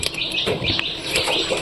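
Pigeons and their chicks call close by in a loft with a broken nest, a continuous stream of overlapping chirps and peeping calls with no talk.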